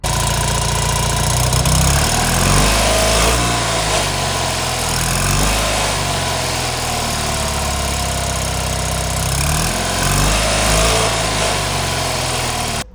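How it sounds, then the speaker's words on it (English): A classic Fiat 500 with its standard exhaust idles steadily, putting out a buzzy, slightly uneven burble that stays loud and close throughout, with no voices. "let's see what the standard exhaust sounds like."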